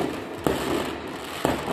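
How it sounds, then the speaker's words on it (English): Fireworks go off on New Year's Eve, with two sharp bangs over a constant crackling, hissing wash of more distant bursts. "They're fireworks!"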